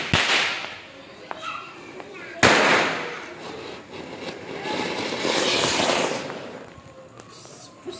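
Firecrackers are set off outdoors for Dev Diwali. Two sharp, loud cracking bangs ring out a couple of seconds apart, with people talking and a hissing rush in between.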